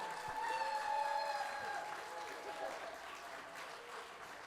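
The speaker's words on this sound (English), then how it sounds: "please give a big, big round of applause to our bride and groom, Jennifer and Daniel" Wedding guests applaud the bride and groom at an evening reception, a steady wash of clapping from a crowd that fades slowly, heard faintly with some voices in the room.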